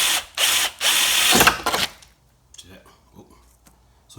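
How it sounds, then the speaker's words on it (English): A handheld power drill bores a small pilot hole through the tailgate of a Ford Bronco, with loud whirring bursts for about two seconds before stopping, followed by quiet handling sounds and a low voice. "So you do need to drill a small hole first in the center."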